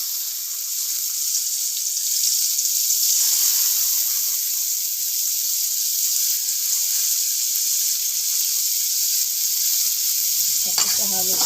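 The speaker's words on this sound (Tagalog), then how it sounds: "Tapos ng bawang ay susunatin yung ating sibuyas." Chopped onion hits hot oil in a pan after garlic, letting out a loud, continuous hiss and sizzle that holds steady throughout, with a brief clatter at the very end.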